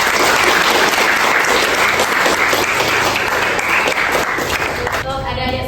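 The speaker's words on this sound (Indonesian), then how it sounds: "tepuk tangan untuk temannya atas nama Yuli ya di peringkat pertama" A classroom of students applauds a classmate named Yuli for taking first place, with steady, dense clapping that fills the room for several seconds and thins slightly at the very end.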